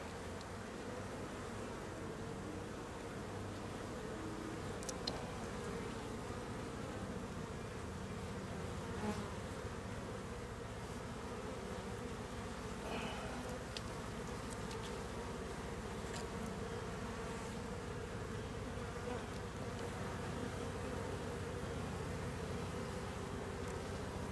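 Honey bees buzz continuously during an inspection of a new hive a month after setup, a dense, steady swarm drone with the occasional louder bee passing close by.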